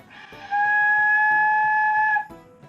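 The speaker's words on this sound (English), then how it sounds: "some people will practice with just the head joint, and it'll sound something like this" A single sustained, breathy high whistle-like tone from a Bear flute head joint played alone, held for nearly two seconds, fairly loud and steady, with quiet pauses before and after.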